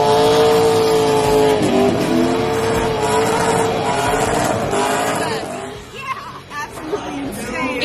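Two drift cars do an exhibition run at a raceway during a halftime drift show, with loud revving engines and tire squeal. A voice talks over the noise, which eases back near the end.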